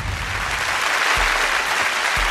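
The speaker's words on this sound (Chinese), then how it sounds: "好的，掌声欢迎两位" An audience at a startup pitch show applauds to welcome two guests, producing dense, even clapping that stays loud and steady throughout, with no one speaking over it.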